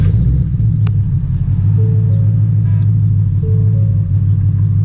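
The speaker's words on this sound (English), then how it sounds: "Go ahead and put our foot on the brake and go ahead and start it here in a second, and we're gonna see what happens." A car engine after a BAMA REV X tuner install runs at a steady, loud idle, with a low rumble that holds constant throughout and no talk over it.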